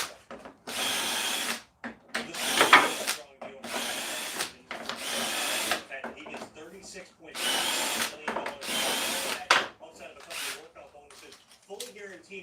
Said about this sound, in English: it's a jig to drill holes for adjustable shelving